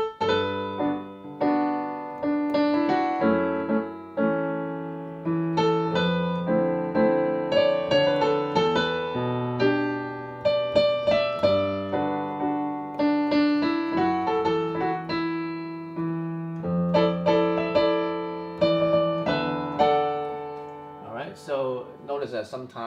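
Solo piano plays the melody of a song over chords and a low bass line, with notes struck in a flowing rhythm and a bright flourish at the end.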